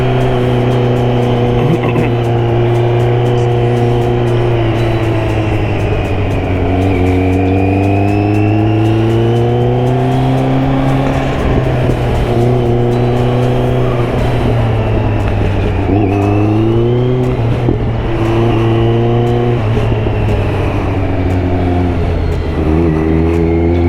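A 2020 Kawasaki Z900 motorcycle is ridden on the road, its engine droning loudly and continuously close by, rising and falling in pitch through repeated throttle changes and gear shifts.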